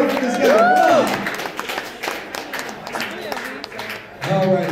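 A restaurant crowd at a Buffalo Wild Wings blazing chicken wing challenge applauds a contestant, with steady clapping and some cheering under people talking, fading in the middle and swelling again at the end.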